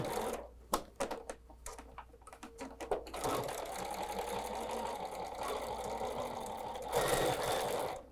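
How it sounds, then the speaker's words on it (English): A sewing machine runs a short 1/8 inch basting stitch on fabric, starting with a few quick bursts of needle clatter before settling into a steady, close, rapid whirring run that briefly intensifies near the end. "just do a short 1/8 inch basting stitch, back stitch a couple times"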